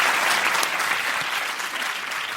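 A studio audience at a French radio literary-review show applauds a guest, a dense, steady wash of clapping from many hands, loud and close, continuous throughout.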